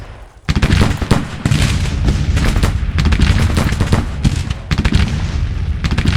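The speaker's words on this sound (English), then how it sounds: "Cavalry crossed. Taking some heavy fire." Dense, heavy gunfire rattles continuously in a Civil War strategy battle game at Manassas, loud massed volleys and rapid cracks overlapping in a near-constant barrage with brief gaps.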